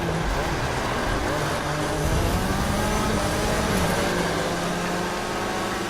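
Cars racing in the video game The Crew 2, a steady, loud wash of engine drone and road roar with revving swells, continuous throughout with no pauses.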